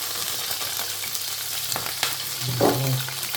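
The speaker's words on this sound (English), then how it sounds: "They're frying away nicely." Steady sizzling of steak and peppers frying in a pan for fajitas, with a few clatters and a brief louder burst of hiss near the end.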